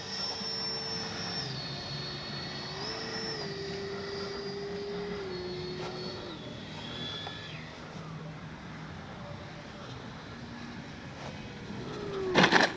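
Freewing 90mm F4 Phantom II RC jet coming in to land on a warm day, a steady turbine whine with falling and stepping tones, fairly close and continuous, ending in a brief louder burst.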